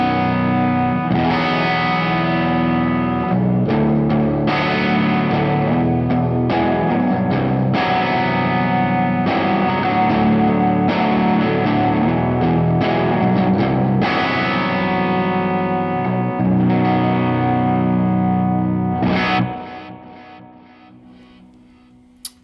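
Electric guitar runs through a Two Notes Genome amp simulator on its Sunshine preset, playing continuous distorted chords and riffs with chorus-like shimmer, loud and steady, ringing out and fading at the end.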